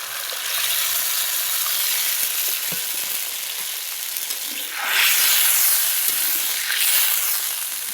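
Water poured onto fried spice paste for a rohu fish curry sets off a loud, continuous hissing sizzle that swells again midway, close and steady.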